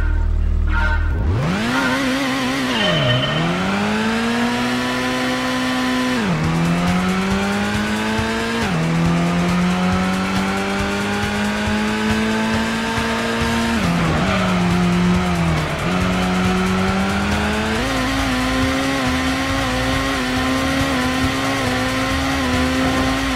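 A TVR Griffith races in the video game Gran Turismo, its engine roaring loudly and continuously as it revs up and down through repeated gear changes, with tires squealing through corners.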